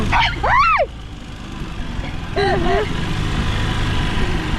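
A dog barks twice, the first bark loud and drawn out, the second shorter and softer, with a steady engine rumble underneath.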